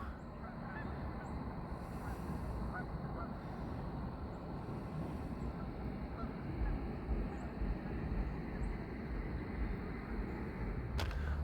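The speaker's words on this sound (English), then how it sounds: "And all the geese." A flock of geese honks on and off across a lake with people fishing nearby, the calls fairly faint and distant against a continuous outdoor background hum.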